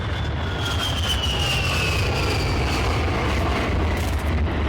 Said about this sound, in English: We got the scout chopper.